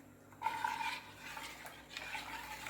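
A spoon scrapes and stirs thickening kambu (pearl millet) porridge in a pot on the stove, with soft repeated scraping and clinks near at hand and no one talking.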